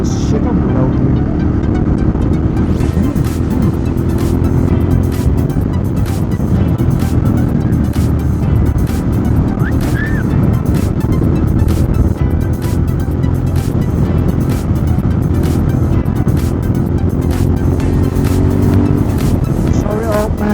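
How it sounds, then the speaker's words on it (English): Moto Guzzi Griso motorcycle with a modified exhaust runs close and loud for twenty seconds, a steady deep engine drone with rising revs and rhythmic clicks, while wind rushes past and a voice talks faintly underneath. "I'm testing my exhaust"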